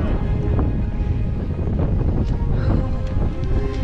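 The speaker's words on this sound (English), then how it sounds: "It's getting windy." Steady outdoor wind buffeting the microphone on a trail in Zion National Park, a continuous low rumble with faint thuds and scattered sounds underneath.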